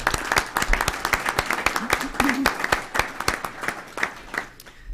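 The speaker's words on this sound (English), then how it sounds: "Let's give a round of applause to Kevin and to Tom." Audience claps for award recipients at a committee meeting, a smaller group with distinct individual hand claps forming a moderate, uneven patter, with a brief murmur of voices underneath.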